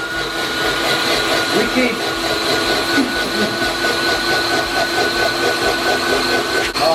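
An electric kitchen grinder runs steadily and loudly while grinding ingredients for gajar halwa. It is a continuous motor drone with a pulsing churn, and people talk briefly over it.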